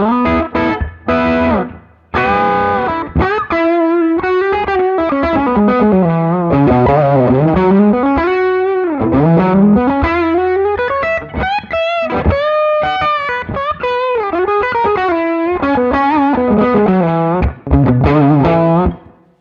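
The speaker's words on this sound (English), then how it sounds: "After that, it hits the Tube Screamer, which is a really, really cool pedal." Electric guitar overdriven through a Tube Screamer pedal plays a continuous melodic lead, gritty and saturated with sustained bending notes, loud and upfront with no voices.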